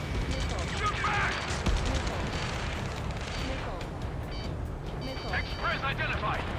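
Gunfire crackles through a chaotic firefight in Ace Combat 7, dense overlapping bursts under shouted voices throughout, with a busy wash of battle noise that never lets up.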